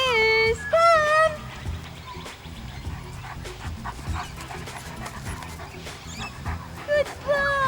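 Zeus, a dog in recall training, whines in high, wavering cries and pants heavily at close range, with further whimpers near the end, while people talk around him.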